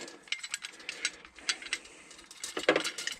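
Threaded brake line flaring tool is unscrewed and backed off, giving a run of small metallic ticks, clicks and ratcheting rattles at an uneven rhythm, close up with no talking.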